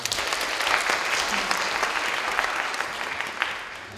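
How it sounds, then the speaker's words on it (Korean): Audience applause follows a Chopin prelude at a classical concert, a dense, continuous wash of many clapping hands filling the room at steady loudness from start to finish. "박수 한번 보내주십시오"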